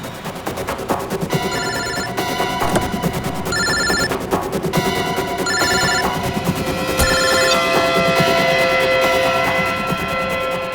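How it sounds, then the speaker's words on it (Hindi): A mobile phone rings inside a car, its electronic ringtone repeating in regular bursts of high tones over a dense, steady bed of background music and noise that persists throughout. "सर फोन तो गाड़ी में बज रहा है।"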